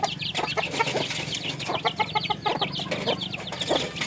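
Hen and her chicks clucking close by, a steady mix of low maternal clucks and high, rapid peeping from the chicks throughout, with no talk.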